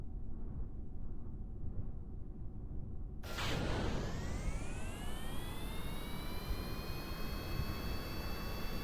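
A rocket engine thrusting up in Kerbal Space Program, kicking in abruptly as a loud, steady roar after a low hum, with a rising whine sweeping upward as the thrust builds and holds.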